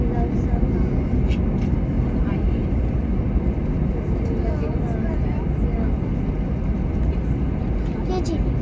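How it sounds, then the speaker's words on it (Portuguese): A passenger airplane on its takeoff run toward Manaus, heard from inside the cabin as a loud, steady engine roar and rumble while people talk over it. "Vai decolar. Tá quase voando, gente."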